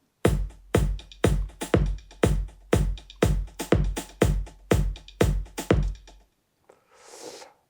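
A steady drum pattern of punchy kicks with a shaker-like hiss on each beat, repeating about a dozen times before stopping, followed by a faint rustle.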